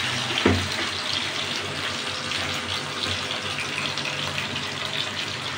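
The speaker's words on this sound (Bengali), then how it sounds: "তারপর গরম তেলে দিয়ে দিব একটা একটা করে এখানে ম্যারিনেট করে রাখা আলু" Marinated potato pieces for French fries hit hot oil, giving a steady loud hiss after a brief splash near the start, continuing evenly and up close with no talk.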